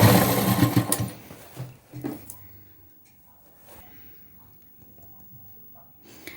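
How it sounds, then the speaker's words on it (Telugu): A sewing machine stitches a boat neck blouse in a loud, close burst of about a second, then stops, leaving mostly quiet handling noise with a couple of soft thumps. "ఇక్కడ వరకు మనం స్టిచ్ చేసుకుందాం"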